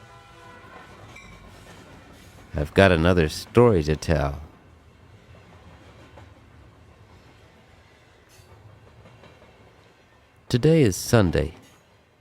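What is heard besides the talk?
train riding on rails, clickety-clack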